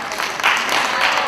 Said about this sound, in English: let's have another round of applause for this band.